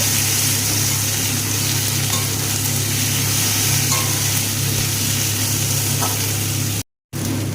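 Chopped vegetables and tomatoes sizzle and fry together in a pan, with a steady hiss under occasional stirring scrapes and a brief dropout near the end.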